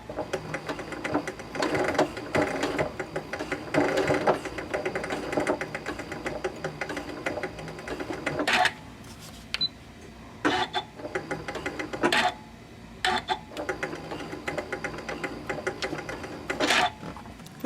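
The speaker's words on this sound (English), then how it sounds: "now I'll finish up just by sewing a little bit over these original stitches right here and then backstitch" A sewing machine stitches a fabric pouch, running in short bursts of rapid mechanical whirring with pauses between. It goes over earlier stitches and then backstitches, and it is fairly quiet and close.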